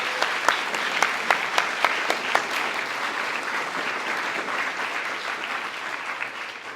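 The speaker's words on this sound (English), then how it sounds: "Let's give these students a round of applause for their commitment to this program." A room full of people applauding steadily at a school awards assembly, with a few sharp individual claps standing out at the start before it settles into even clapping.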